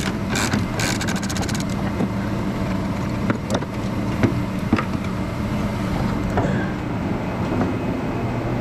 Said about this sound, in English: Sorry about the noise in the background, it's my heater running.